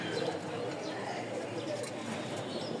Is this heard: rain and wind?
no